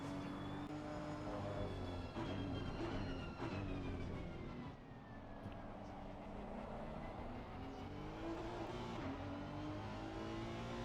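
GT3 race cars roar around Suzuka in the racing game Assetto Corsa Competizione, with several engines revving and shifting pitch together as the pack passes, a continuous layered whine under the sound of the race.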